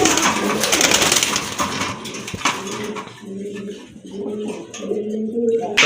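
Pigeons kept for sale coo in short, repeated throaty phrases, rising clearer in the second half after a stretch of louder rustling and clatter.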